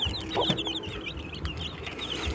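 A group of eleven young chicks peeping in a box, dense overlapping high chirps repeating continuously and close by, with faint low background rumble.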